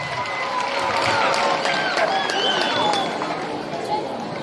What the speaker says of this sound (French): Nous pouvons applaudir très très fort.